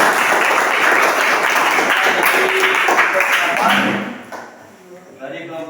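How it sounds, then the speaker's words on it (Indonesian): A classroom of students in a Christian religion class bursts into applause, dense steady clapping for about four seconds that then tapers off, with voices talking faintly beneath it. "Oke, beri aplaus dulu."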